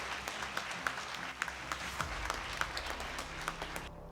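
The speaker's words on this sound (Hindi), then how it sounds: "तो जोरदार तालियां मलिक जी के लिए।" Audience claps for Malik ji at a Hindi talk on relationships, a soft, fairly distant patter of hands running steadily for about four seconds before cutting off abruptly.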